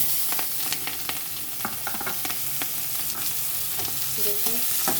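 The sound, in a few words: onion frying in oil with whole garam masala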